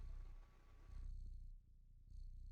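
Mishka the cat purring faintly in low, steady pulsing cycles, very quiet and close, with no voices.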